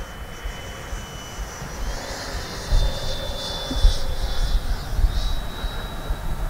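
Freewing F-22 90mm EDF radio-controlled jet at full speed, a continuous high whining ducted-fan roar with shifting pitch over rumbling wind, steady and fairly loud throughout with no talking.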